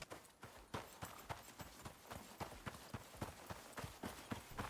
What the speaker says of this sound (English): Nope, it was a horse.